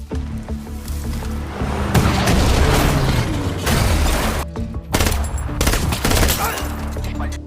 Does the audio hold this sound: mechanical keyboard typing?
no